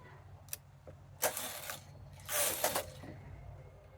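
Knitting machine carriage sliding across rows of skin-colored yarn, giving two loud rasping passes with clicks and a low steady hum beneath.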